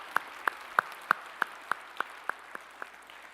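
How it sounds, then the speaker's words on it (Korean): A church congregation claps together in a steady, even rhythm, about ten sharp claps roughly a third of a second apart. The clapping is fairly quiet in a reverberant hall and trails off toward the end. "우리의 찬양을 받으실 주님께 영광의 박수 올리겠습니다"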